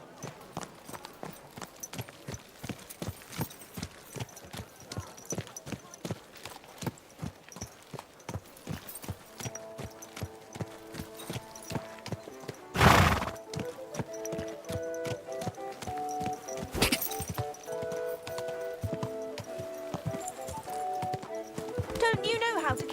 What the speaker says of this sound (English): Don't you know how to keep your horse under control?